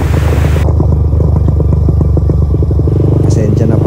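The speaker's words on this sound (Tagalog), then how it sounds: "Pasensya na pala sa tunog ng motor ko." A motorcycle engine runs steadily at speed under a rider's talk, with a constant low rumble and some wind noise throughout.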